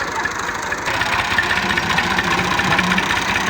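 A tractor engine idles steadily at a village farm site, a continuous mid-low rumble with a faint knocking pulse, fairly close and unchanging throughout with no talk.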